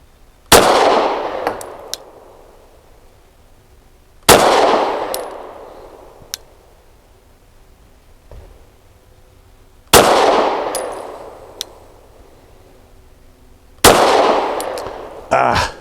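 Four sharp pistol shots from a SAR 9C Gen 3, spaced a few seconds apart, each a loud crack with a ringing decay, with faint metallic clinks of ejected casings between them.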